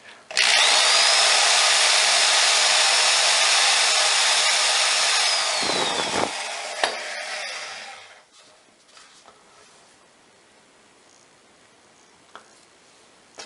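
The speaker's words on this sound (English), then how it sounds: "It's real important to drill straight." A power drill cuts into steel during a shower drain repair in a tiled bathroom, giving a loud, steady whine close by for about six seconds. It then winds down and stops, leaving near silence with a few faint clicks.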